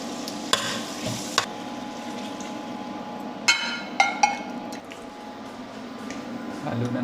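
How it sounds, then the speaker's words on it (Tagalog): Rice stirred in a frying pan, soft scraping and squishing with a few sharp spatula clacks over a gentle sizzle, and a voice speaking in the background. "Halo na natin yung kanin"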